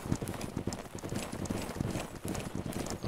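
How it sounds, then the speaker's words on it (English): Rapid hoofbeats of a galloping horse in the video game Holdfast thunder close by, a continuous drumming clatter with no voices. "I got trampled by the horse again"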